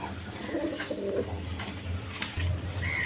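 Pigeons at a farm coo in low, soft bursts, a few calls rising and falling over a steady background murmur, close by with no talking.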